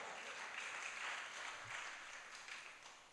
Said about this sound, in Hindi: जोरदार तरीके से इन माताओं के सम्मान में तालियां तो बजा दो।